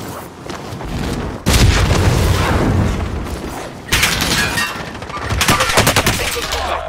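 Heavy gunfire in Call of Duty Warzone: close, loud bursts of automatic rifle fire and booming shots crack in rapid clusters over a battle soundscape, with brief gaps between volleys.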